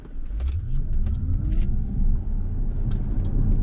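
A Tesla Model S electric car on a road trip drives along with steady tyre and road rumble and a rising whine as it picks up speed, heard from inside the cabin and fairly close.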